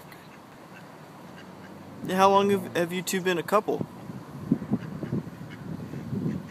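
A duck quacks loudly and repeatedly in a quick burst of harsh, nasal calls close by, followed by softer fowl noises, while a person speaks over the scene.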